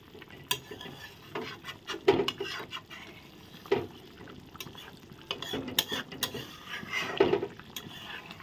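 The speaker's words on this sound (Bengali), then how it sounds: "কাঁচা লঙ্কা দিয়ে একটু ভালো করে নেড়ে দেব।" Spoon stirring a paneer curry with green chillies in a pan, intermittent scraping and clinking strokes against the metal over a soft simmering background, with no talk.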